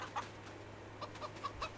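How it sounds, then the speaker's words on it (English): Chickens in the Farming Simulator 25 video game cluck in short, scattered bursts, several brief clucks spaced unevenly over a quiet low hum. "let's go ahead and check our chickens while we're down here"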